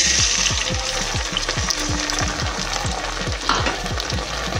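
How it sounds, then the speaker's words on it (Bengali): Ginger, cumin and green chilli paste hitting a pan of fried onion and tomato, a steady loud sizzle with rhythmic scraping strokes of a spatula stirring throughout, no voices. "এবারে এর মধ্যে একটু আদা বাটা আর জিরে কাঁচা লঙ্কা বাটাটা দেবো"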